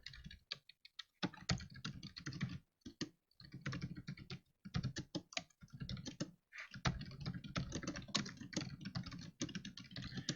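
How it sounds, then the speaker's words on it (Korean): Typing on a computer keyboard in bursts of quick, close key clicks with short pauses between runs of strokes, no voices present. "전달하고 싶은 내용을 쳐서 전달할 수도 있습니다"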